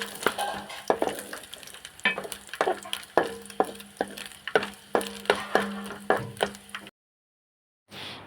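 Coconut pieces fry with cinnamon and cardamom in a pan, a soft sizzle broken by a dozen or so rhythmic stirring scrapes and clinks of a spatula, close, stopping near the end, with no talk.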